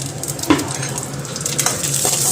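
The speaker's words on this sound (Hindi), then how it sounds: "हल्का सा राई, खड़ा धनिया और हींग और खड़ा मिर्च मैं ऐसे ही डालती हूँ" Mustard seeds, whole coriander, asafoetida and dried red chilies spitting in hot oil for a plain ridge gourd dish, a steady close sizzle with a few sharp pops and light stirring clicks.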